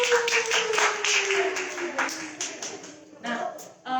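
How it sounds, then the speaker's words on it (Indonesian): A small group claps for children during an online church worship gathering, a brief patter of hands over a sustained tone and a voice in the background. "kita mau kasih tepuk tangan dulu dong buat kalian."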